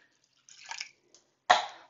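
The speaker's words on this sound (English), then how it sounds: "I have some water here. So I'm going to take it, I'm going to dump it in the inside here." Water poured into a Thatsa plastic kitchen bowl, a brief soft splashing pour followed by a sharper splash and short fading trickle, close and quiet with no talking.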